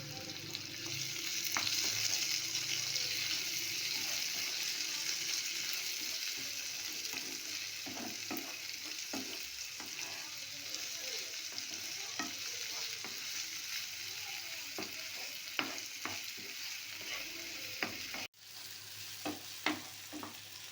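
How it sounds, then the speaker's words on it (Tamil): Chopped tomato with crushed garlic, green chillies and half a spoon of salt sautéing in a pan for an egg masala stir-fry, a steady close sizzle throughout with scattered stirring clicks and scrapes and a brief break near the end. "அரை ஸ்பூன் உப்பு சேர்த்து தக்காளியை நல்லா வதக்கி விட்டுக்கலாம்."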